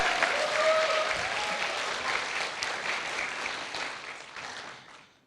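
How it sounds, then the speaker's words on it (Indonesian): An audience at a televised Indonesian election-themed comedy and talk show claps, a dense burst of applause that starts strong and gradually fades out. "Tepuk tangan dulu buat kalian semuanya."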